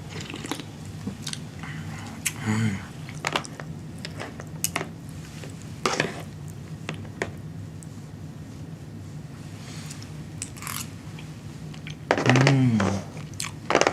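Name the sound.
eating and chewing food, with pineapple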